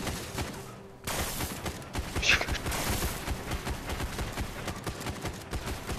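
Dense bursts of gunfire from the zombie-shooter game Dawn of Zombies: Survival during a boss fight, a rapid crackling fusillade that starts abruptly and continues steadily at close range.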